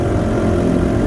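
A motorboat engine drones steadily on the Sea of Galilee, a close, even, low rumble with no pauses and no voices over it.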